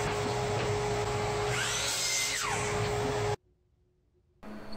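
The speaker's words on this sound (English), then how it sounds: "Next, it was off to the miter saw to cut everything down to exact length." A miter saw cuts wood to exact length for a homemade CNC router build: a loud, steady motor whine with cutting noise for about three seconds, then an abrupt stop, a short quiet gap and renewed machine noise.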